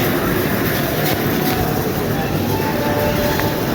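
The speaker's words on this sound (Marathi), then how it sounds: "ट्रेना लागलेल्या असतात" Trains at Bhusawal railway station produce a loud, steady rumbling roar that fills the whole stretch, heard from close by with a continuous dense rail noise and no clear pauses.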